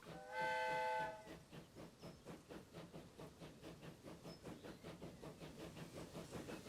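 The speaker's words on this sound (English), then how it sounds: "Here we have said train now coming out." In the video game Transport Fever 2, a short steam whistle sounds, then a train chuffs away in a steady rhythmic beat with hissing, the puffs repeating evenly and fairly faint.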